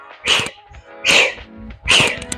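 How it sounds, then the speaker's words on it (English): A house cat calls out during an indoor prenatal workout session, giving three short, fairly loud meows spaced under a second apart with brief quiet between them and no talk. "Cat loves coming to say hello whenever I'm here."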